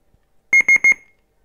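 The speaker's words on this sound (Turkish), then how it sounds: "4:40'ta bip sesiyle çaldı." A LOCI IBOX D90 digital radio alarm clock sounds its alarm: three quick bursts of sharp, piercing electronic beeps, each burst a rapid double pulse, loud and close in an otherwise quiet room.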